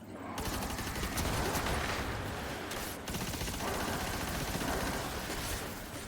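A heavy weapon fires in a sci-fi shooter video game, a dense sustained barrage of rapid crackling blasts and booming impacts, loud and continuous with a brief gap in the middle.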